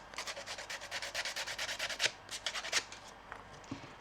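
Wooden boards for card and craft backgrounds being sanded in quick, rhythmic back-and-forth strokes, close and fairly quiet, with a few slower rubs toward the end; no voices.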